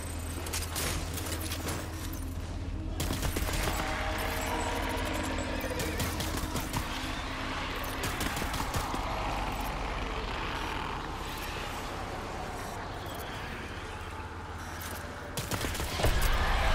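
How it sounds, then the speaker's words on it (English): Sustained assault rifle fire in Death Stranding, loud, dense bursts of rapid automatic shots over a low rumbling vehicle-like drone, continuous for the whole stretch with a brief louder surge at the end, no talking. "Time to use some assault rifles."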